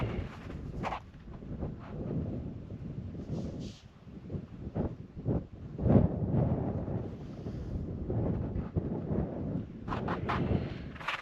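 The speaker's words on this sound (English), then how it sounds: "it's pretty windy out there, but I'm going to stick the camera out the window" Strong wind roaring past a camera held out a truck window, a continuous buffeting rush with gusty swells and occasional sharp thumps against the microphone.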